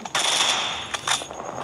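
Machine gun fire in a video game: a rapid burst of bright, crackling automatic shots, loud and close, breaking off briefly before a second short burst.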